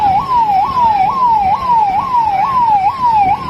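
An ambulance siren on a national highway blocked by a crowd gives a loud, close wail that sweeps up and falls back in an even cycle about twice a second, over faint road rumble with no speech.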